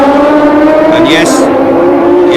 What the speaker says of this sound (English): The car has the most fantastic sound to it